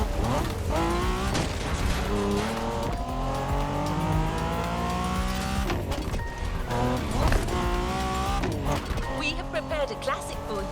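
A BMW Z4 M40i convertible races through the backcountry in the video game The Crew Motorfest, its engine revving and shifting up through gears in rising sweeps, with tire noise, over steady music and a voice talking.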